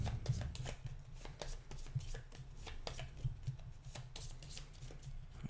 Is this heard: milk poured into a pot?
no